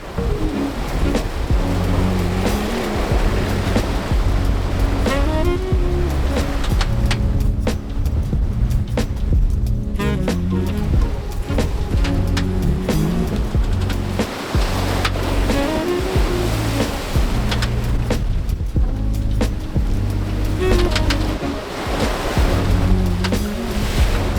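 Ocean waves churn around a sailing boat offshore near a deep drop-off, in steady, loud, continuous surf and water rush with gusting wind noise across the whole stretch, with no voices.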